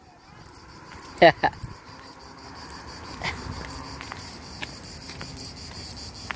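Crickets chirp steadily in a forest on Montjuïc hill in Barcelona, a faint, continuous high trill with a few sharp nearby clicks and rustles, while people talk over it.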